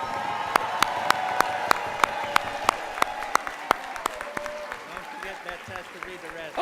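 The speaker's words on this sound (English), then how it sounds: "Let's give all of these winners a huge Federation cheer." Large convention audience applauds and cheers for award winners at a National Federation of the Blind event, steady dense clapping with sharp loud claps near the front and scattered whoops, fading slightly toward the end.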